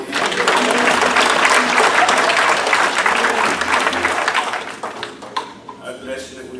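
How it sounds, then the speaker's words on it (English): A church congregation claps together at an 84th anniversary homecoming service, loud sustained applause with cheering voices mixed in, tapering off toward the end while people talk. "Let me give a Lord a hand clap for 84 years."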